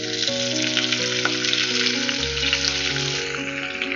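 Diced Spam fries in hot oil in a wok, giving a bright, steady sizzle that runs under sustained background music.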